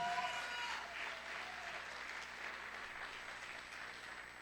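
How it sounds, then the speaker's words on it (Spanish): A church congregation applauds in a steady, faint wash of clapping that continues evenly throughout, with no talk over it. "Alguien le da un fuerte aplauso al Señor"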